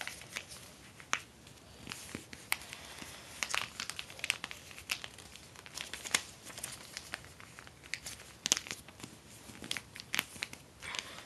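Paper is folded for a paper airplane, heard close up as a run of crisp crinkles, creases and rustles at an uneven pace, fairly quiet with no talking.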